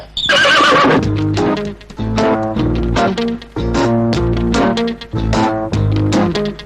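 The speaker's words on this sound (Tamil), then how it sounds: "இந்த குதிரை குறுக்க நிக்குது, எனக்கு பயமா இருக்கு, கொஞ்சம் விரட்டி விடுங்களேன்" A horse neighs loudly and close by in repeated whinnying bursts with short pauses between them, and hoof clip-clop can be heard underneath.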